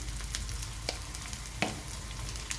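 Masala frying in hot oil for an ivy gourd curry: a continuous close sizzle and crackle with occasional louder pops and stirring scrapes.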